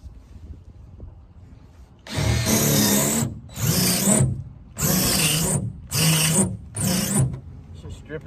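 A power drill fitted with the wrong bit whirs in five loud, close bursts while it spins and strips screw heads, with short pauses between runs.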